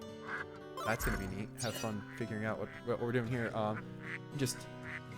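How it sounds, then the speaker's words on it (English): Ducks quacking in the video game Baten Kaitos, repeated nasal quacks scattered under someone talking over them. "Let's just listen to the ducks for a second."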